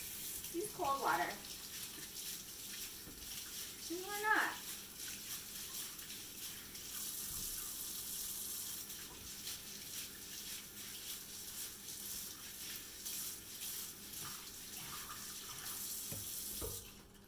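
Cucumbers washed under a running cold kitchen tap, a steady faint rush of water into a sink that continues throughout, with brief speech near the start.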